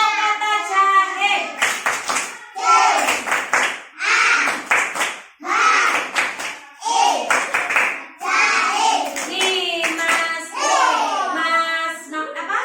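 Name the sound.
children clapping out the syllables of a word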